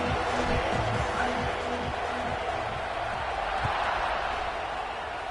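Stadium crowd roars steadily before a kickoff in the NCAA 26 college football video game, South Carolina versus Georgia, a continuous loud wash of cheering from a packed stadium with a low voice faintly beneath it.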